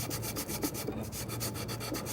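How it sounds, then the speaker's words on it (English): A sanding block rubs a wooden dowel plug down flush with the surface, a steady close rhythm of short scratchy back-and-forth strokes that continues without a break. "you can just take a sanding block,"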